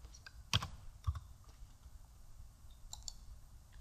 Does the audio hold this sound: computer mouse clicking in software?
yes